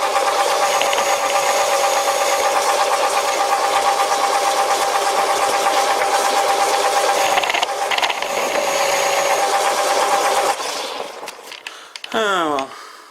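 An old WW2 Fischer lathe cuts metal with a high-speed steel tool bit, a loud steady mechanical whine and rattling chatter for about ten seconds before winding down and stopping.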